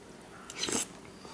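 A bite of homemade Italian lasagna being chewed, a single short, soft, wet crunch right up close, with no voices.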